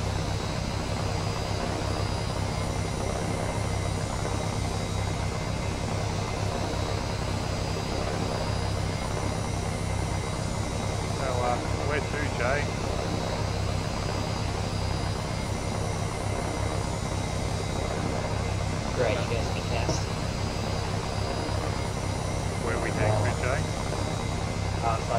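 A propeller airplane flies nearby inside a ship in a military video game, a steady droning engine hum throughout with faint radio-like voices talking at times.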